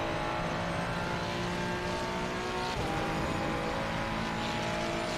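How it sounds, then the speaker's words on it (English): A race car engine drones steadily in Assetto Corsa Competizione, a loud, dense engine tone that drops in pitch midway as it engine-brakes, with no talking. "Oh, it's an engine braking."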